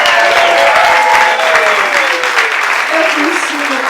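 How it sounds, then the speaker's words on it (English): Loud, continuous applause from a comedy roast festival audience in Ashland, with whoops and voices carrying over the dense clapping. "Big round of applause for everyone who were put on this festival."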